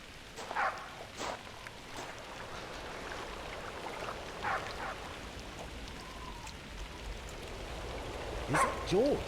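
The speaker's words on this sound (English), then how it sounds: "Where is that barking coming from?" A dog barks in scattered, short bursts at a distance, over a steady patter of rain, with a voice speaking briefly near the end.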